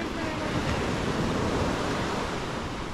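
Sea waves breaking on a beach at Playa del Carmen, a steady broadband wash of surf with wind buffeting the microphone throughout, loud and continuous without distinct individual crashes.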